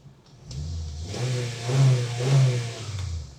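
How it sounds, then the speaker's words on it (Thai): A 2019 Honda City 1.5 V engine revs up twice in quick succession, rising and falling in pitch, then settles back, close and fairly loud. "เดี๋ยวผมขออนุญาตเร่งเครื่องหน่อยละกันนะครั บฟังเสียงเครื่องยนต์กัน"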